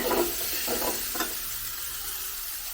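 Chicken sizzles steadily in a hot pan on low flame while a utensil scrapes and stirs a few times, close and fairly loud.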